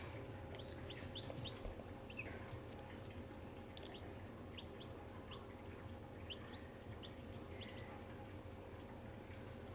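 Brahma chickens cluck and chirp softly in a coop alongside other birds, faint scattered calls over a constant low background hum, with no voices.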